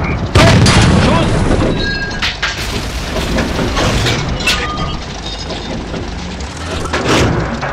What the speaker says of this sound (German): Panzergranate 39! Stopp! Stopp! Schuss!